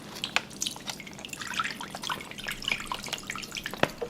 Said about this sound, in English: there's broth coming from every which way.